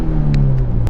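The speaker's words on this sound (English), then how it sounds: "a nameless performance axle-back exhaust," A Subaru BRZ with an aftermarket performance axle-back exhaust gives a loud, deep, steady rumble at close range, with a few brief ticks over the drone.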